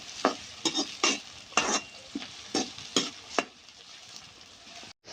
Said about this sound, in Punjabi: ਪਿਆਜ਼ ਆਪਾਂ ਭੁੰਨ ਲੈਣੇ ਚੰਗੀ ਤਰੀਕੇ ਦੇ ਨਾਲ ਲਾਲ ਕਰ ਲੈਣੇ